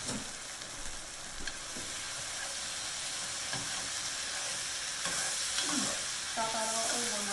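Tofu stir-frying in a hot pan gives a loud, steady sizzle with scraping stirs throughout, close up, with no talking.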